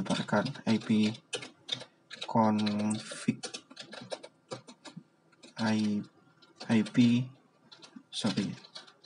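Typing ipconfig on a computer keyboard at a hospital network workstation, scattered quick key clicks running beneath and between almost continuous speech.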